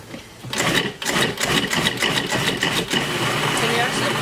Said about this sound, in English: Can you actually blend it extra well for me?